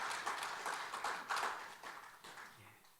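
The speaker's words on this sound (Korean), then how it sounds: "그런 마음을 담아서 박수로 보내고 받도록 하겠습니다" A church congregation applauds during a Sunday morning service. The clapping is scattered and quiet and fades out over a few seconds.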